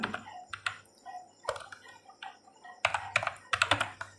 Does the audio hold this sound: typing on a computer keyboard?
yes